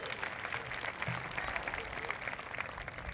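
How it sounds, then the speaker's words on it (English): Audience applause at a high school arts academy graduation ceremony, a continuous patter of clapping from a crowd, faint and heard from a distance. "let's give her a round of applause"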